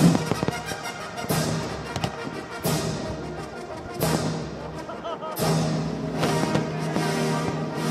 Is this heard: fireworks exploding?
yes